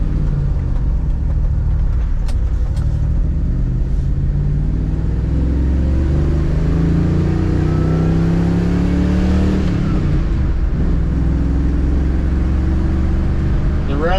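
A 1978 Dodge Aspen R/T Super-Pak cruises in second or third gear through curves, its engine a loud, close, steady rumble that climbs and drops with throttle, briefly revving before settling back.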